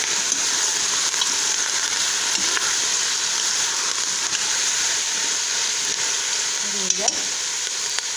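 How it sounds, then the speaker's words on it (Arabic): Squash, potato, carrot and turnip fry in a pan with a steady, close, loud sizzle that holds without a break, a few faint stirring knocks on top. "نقلي كل شيء"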